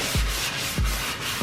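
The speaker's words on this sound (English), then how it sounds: "hit it with the fine sand block" A fine sanding block rubs along the grain of an old wooden table being refinished, with three steady back-and-forth strokes, close and fairly loud, and no voices.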